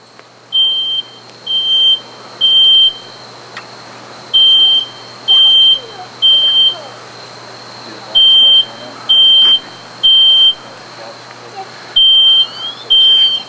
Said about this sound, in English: hear the smoke alarm initiating now, within seconds.